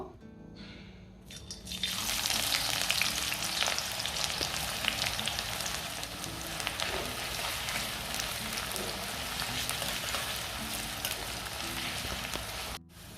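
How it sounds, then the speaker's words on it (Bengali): Sliced onions hit hot oil in a kadai and fry for a Bengali macher kalia, a sudden bright crackling sizzle that stays loud and dense, close by, with small popping spatters throughout. "কারণ কি আগে আমরা পেঁয়াজটাকে বেরেস্তা করে নেব"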